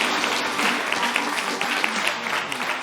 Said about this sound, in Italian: ti possiamo fare un bel applauso